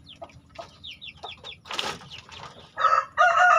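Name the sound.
chickens clucking and crowing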